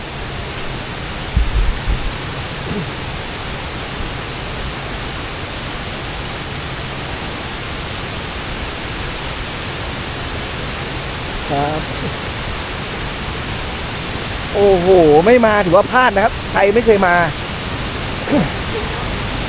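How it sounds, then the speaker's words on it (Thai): Wachirathan waterfall, tall and swollen in the rainy season, pours out a steady, loud broadband roar that never lets up, with someone speaking over it briefly near the end. "น้ำตกไหลลงมาข้างล่างนะครับนี่"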